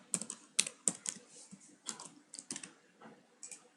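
Typing on a computer keyboard during a coding lesson: quick, irregular clusters of close, crisp key clicks with short pauses between bursts, and no talking.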